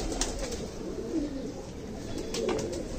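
Sialkoti breed pigeons coo softly and steadily in a loft, a low repeated murmuring close by with faint background hum.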